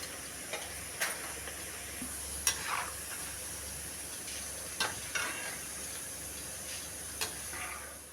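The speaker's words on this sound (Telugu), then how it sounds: "ఆ నూనెలోనే పోహా వేసుకుందామండి. అటుకులు ఫ్రై చేసుకుందాము." Poha (flattened rice) frying in oil for a spicy karam mixture snack, giving a steady, soft sizzle with occasional sharp clicks and scrapes in the pan, close by and without talking.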